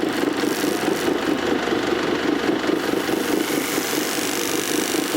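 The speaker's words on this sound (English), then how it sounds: "I'm going to buff the back of it just in case there's a burr on there" A buffing wheel spinning against the back of a hoof knife blade to remove a burr, giving a steady, loud whirring motor drone with a slight pulsing texture, with no speech.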